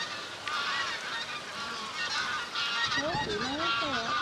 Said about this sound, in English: You can hear the geese calling from far away